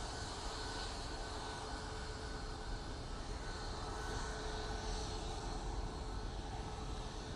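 A Ryanair airliner passes close by at Manchester Airport, a steady broadband engine roar that holds evenly throughout without clear rise or fall.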